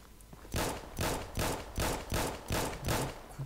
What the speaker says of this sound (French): Coup de feu, il vient d'en face.